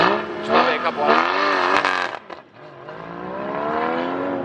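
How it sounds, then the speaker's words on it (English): A Porsche GT4 runs an autocross course at a Porsche Club event, its engine note rising and falling loudly and close as it accelerates through the course, with what may be voices mixed in. "That's that Porsche."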